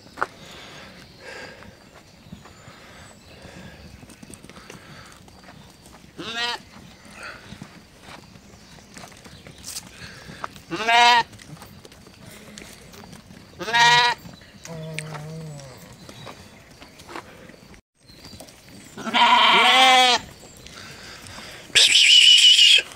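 Sheep returning from pasture bleat several times at intervals, some loud and close, amid quiet shuffling footsteps and low background movement of the flock.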